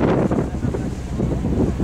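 Gusty wind buffets the microphone on a ferry deck between Wales and Ireland with a loud low rumble, while sea water rushes faintly underneath.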